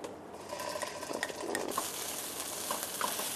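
Chili paste for Thai panang beef heats and fries in a pan, giving a steady sizzle that swells and crackles as it is stirred, with scattered light clinks of a utensil against the pan.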